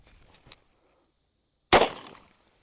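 A single sharp gunshot from a lever-action rifle chambered in .44 or .22, loud and close, rings out after faint handling sounds and a short quiet pause, then decays briefly.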